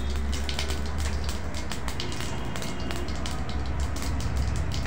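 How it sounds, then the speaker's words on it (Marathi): Mustard and cumin seeds crackle in hot oil while tempering, producing a dense, continuous spatter of sharp pops and sizzling heard up close with no pauses. "मोहरी आणि जिरं छान तडतडलं आहे।"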